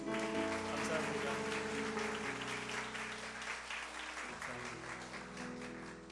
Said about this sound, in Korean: 우리 축복과 사랑의 박수 한 번 더 부탁드리겠습니다